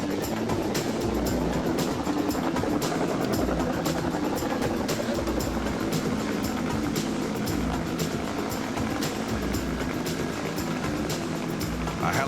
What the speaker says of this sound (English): A helicopter is an unforgiving vehicle to fly in the best conditions.